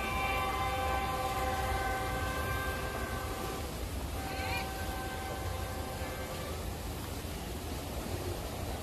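A train crosses the Sungai Ular river bridge, rolling steadily with a constant rumbling roar, its horn sounding at first and then fading, metal rails hissing underneath.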